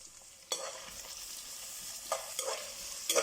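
Sliced onions and green chillies hitting hot oil in a pot for vegetable biryani, a sudden loud sizzle followed by steady frying crackle and a few stirring scrapes, no voices.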